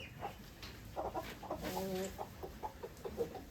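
A hen clucks in short, agitated bursts while a rooster chasing her calls nearby, with scattered rustling and faint background noise.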